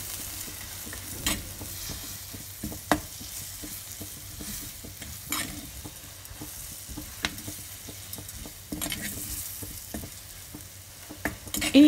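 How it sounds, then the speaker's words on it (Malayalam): Spice powder and curry leaves sauté in a pan for a Kerala-style fish curry, a steady sizzle broken by repeated sharp scrapes and taps of a ladle stirring, near and fairly loud. "ഇനിയിപ്പം ഞാൻ തവിയൊക്കെ ഒന്ന് എടുത്ത് വഴറ്റുമ്പോഴത്തേക്കും കുഴപ്പമില്ല"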